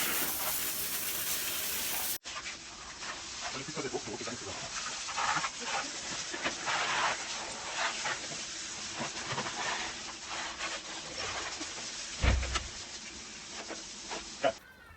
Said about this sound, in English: I haven't got the water on too much of a jet. We're just really trying to loosen the dirt off the bike